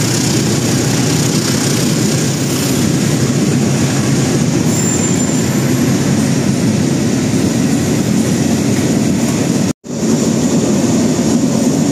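An empty Babaranjang freight train, number 3671 Simpang Sari, rolls past close by on Indonesian track in a loud continuous roar of wheels and wagons, with a faint squeal and no voices.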